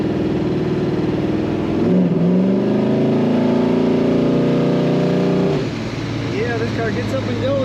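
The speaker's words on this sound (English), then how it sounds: "Car gets up and goes very nicely." A 1969 Chevrolet Chevelle SS 396 tribute car accelerating, its engine revving up in a rising, steady drone, then easing off as the pitch drops, close and loud throughout.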